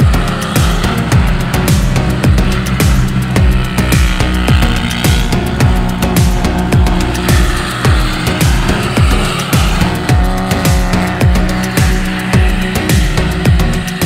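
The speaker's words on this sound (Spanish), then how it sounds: "Has de entrar derrapando y mantener toda la derrapada, darle el gas justo para hacer traccionar el coche." A race car driven sideways through a sliding drift on ice in a GSeries round, its engine pulsing in steady repeated throttle surges and gear-like pops, loud and close with no voices.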